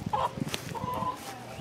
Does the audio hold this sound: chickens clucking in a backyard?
yes